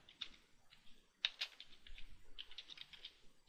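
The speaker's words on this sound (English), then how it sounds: "let me just type in flash website" Fingers typing on a computer keyboard, a quiet run of light clicks with a few short pauses, close but soft against a near-silent room.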